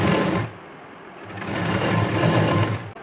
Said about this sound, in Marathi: फोल्ड करून ½ इंचावरती आपली इथे शिलाई मारून घेणार